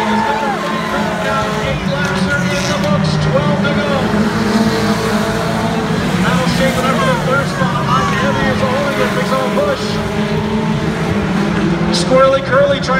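Race cars roar around a dirt track during a feature race, engines droning continuously and loudly with a crowd and announcer voice layered underneath throughout.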